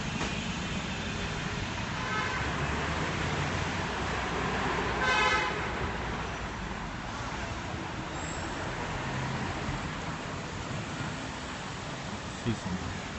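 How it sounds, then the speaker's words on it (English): Busy traffic at a Nanjing bus stop with a small three-wheeled tuk-tuk-style vehicle passing, a dense steady roar of road noise with a brief horn toot and a voice speaking. "It's similar to a tuk-tuk."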